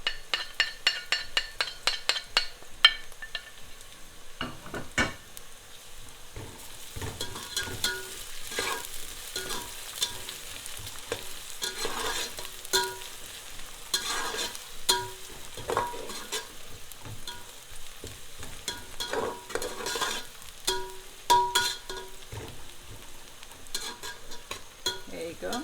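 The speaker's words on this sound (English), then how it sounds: "After a minute of frying the ginger garlic" Chopped ginger and garlic sizzle in a hot pan while a utensil repeatedly stirs and scrapes, with occasional clinks of metal against the pan.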